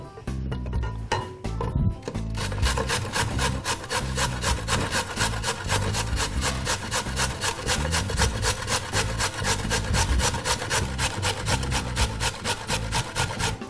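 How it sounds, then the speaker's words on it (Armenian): Carrots rubbed over the coarse holes of a kitchen grater make a fast, steady rasping scrape that repeats in a regular back-and-forth rhythm, loud and close, with a few clinks at the start. "Քերիչի մեծ անցքերով քերում ենք գազերը։"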